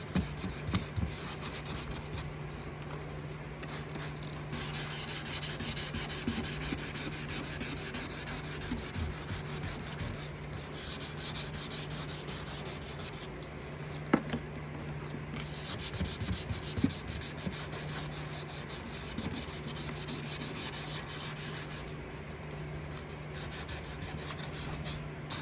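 Wet sanding a hazy plastic car headlight by hand with 600-grit sandpaper: a steady, close rubbing and scraping with a low hum in the background and occasional small knocks, no one talking.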